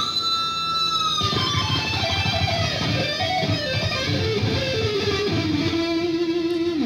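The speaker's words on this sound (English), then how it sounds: "That's what the solo sounds like, soloed out." A solo electric guitar plays distorted, sustained melodic lines and bends, loud and close, with no other instruments or voices.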